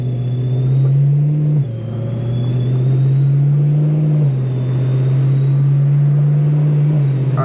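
A BMW E92 M3 engine pulls hard through the gears, a loud, steady rising drone that dips briefly at a shift and then climbs again, close up with no talking.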